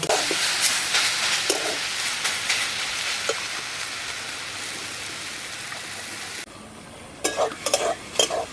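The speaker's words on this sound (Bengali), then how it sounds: "শাকটা ভালোভাবে পেঁয়াজ ভাজার সঙ্গে আর লঙ্কা ভাজার সঙ্গে মিশিয়ে নিচ্ছি" Leafy greens stirred and fried in a pan with fried onion and chili, giving a steady close sizzle with repeated spatula scrapes, briefly quieter before louder stirring strokes return near the end.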